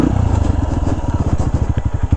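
A Honda XR150 motorcycle rides off-road with a close, throbbing single-cylinder engine beat. The chugging pulse is rapid and loud, with some clattery texture mixed in.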